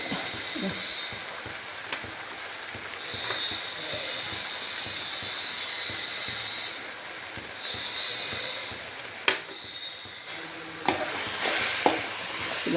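Marinated chicken sizzles steadily in a hot pan for a chicken curry while being stirred, with scraping and occasional sharp clacks of a utensil against the pan, close and alone with no talking.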